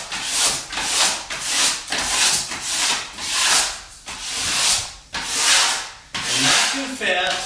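Wallpaper smoothed with a smoother makes long sweeping rubbing strokes, about a dozen loud brushing swishes in a steady rhythm, close and alone.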